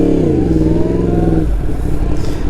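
Yamaha R1 sport motorcycle engine revs hard under throttle, its pitch climbing steadily for a second and a half before breaking into a rougher, lower drone, loud and close throughout.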